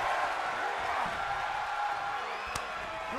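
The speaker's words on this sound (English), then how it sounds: "The sound of this crowd is deafening," Virtual arena crowd in a WWE 2K22 NXT tag-team wrestling match roars in a continuous, dense wash of cheering and whooping, loud and sustained throughout, with a brief sharp impact near the end.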